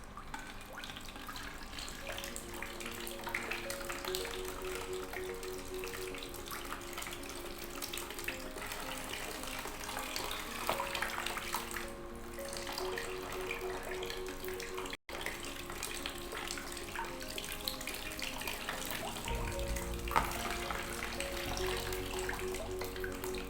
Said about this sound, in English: water is still going out